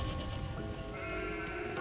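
A sheep in the video game Catherine on PS3 bleats in a drawn-out, wavering cry, loud and close, with nothing else around it.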